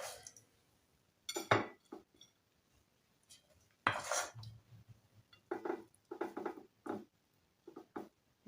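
Dishes and cutlery clink in a series of short, irregular bursts as cooked rice is served, with quiet gaps between the clatters and no talking.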